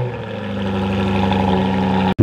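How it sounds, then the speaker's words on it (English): A 575-horsepower 5-liter supercharged V8 car engine rumbles loudly and steadily at idle, close up, before cutting off abruptly at the end. "Let's take a listen to this 575 horsepower 5-liter supercharged V8."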